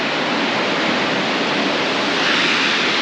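Valara Waterfall in the Kerala hills near Munnar, a steady, loud, broadband roar of falling water that holds unbroken throughout with no voices.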